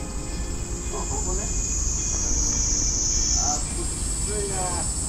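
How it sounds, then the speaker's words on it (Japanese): A cicada buzzes outdoors on a summer day, a steady shrill drone that holds constant throughout and shifts pitch slightly near the end, with faint voices of children and adults in the background. "セミいたよ"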